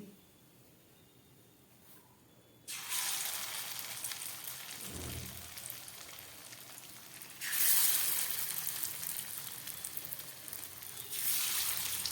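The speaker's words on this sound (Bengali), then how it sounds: "এই তেলের মধ্যে আমি বাকি কোপ্তাগুলো ভেজে নিচ্ছি" Potol koftas frying in hot oil, a loud bubbling sizzle that starts abruptly after a quiet opening, swells again partway through and keeps going steadily.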